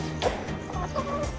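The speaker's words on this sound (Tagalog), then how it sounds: "Yung mga manok po, sa simula, maninibago sila." Chickens clucking inside a chicken tractor, a movable pen being shifted onto fresh grass, with several steady, close clucks and soft calls running continuously through the short stretch.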